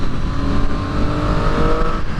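A 2010 Triumph Daytona 675 with a three-cylinder engine snarling under load, a loud, continuous, raspy drone held steady throughout the short stretch with no speech.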